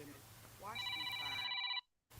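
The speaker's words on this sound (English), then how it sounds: "Oh no, she got a call." A telephone rings with an incoming call, a bright electronic trill that starts over background chatter, holds steady for about a second, then cuts off abruptly into near silence.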